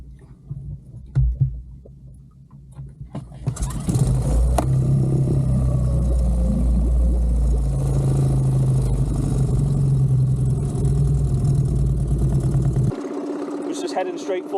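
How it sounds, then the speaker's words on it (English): A small boat's engine turns over and settles into a loud, steady low rumbling idle close by, running for several seconds before cutting back to quieter water and hull noise. "I'm going to start my engine in case he hasn't seen me."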